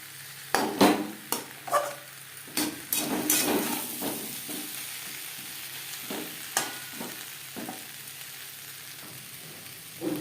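Taro and rohu fish curry sizzles in a pan over high to medium flame. A soft frying hiss runs under repeated spoon-and-pan clanks and scraping strokes, with louder knocks early and quieter ones later.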